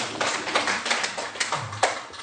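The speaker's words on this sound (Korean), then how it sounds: "이거 박수를 치는 거야." Scattered hand claps from a small audience at a Buddhist dharma talk arrive as a loose, uneven patter of close, sharp taps over a couple of seconds.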